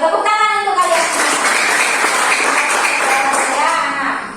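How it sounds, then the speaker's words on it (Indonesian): A classroom of students applauds together, a steady burst of clapping that fills the room at close range, with some children's voices mixed in. "Tepuk tangan untuk kalian"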